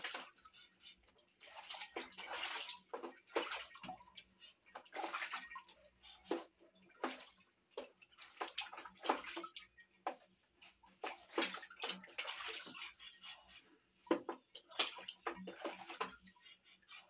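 Water splashes and sloshes in bursts as animals bathe in a basin, irregular splashy clusters with quieter drips between, fairly faint and close, with no talk.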